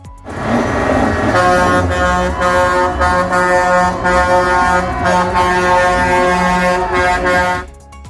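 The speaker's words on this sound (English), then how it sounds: "the truckers have been honking the horns on their rigs for several hours each day" Loud, sustained truck air horns blare together at a trucker protest in a continuous chorus of honking, several overlapping tones holding for about eight seconds before cutting off.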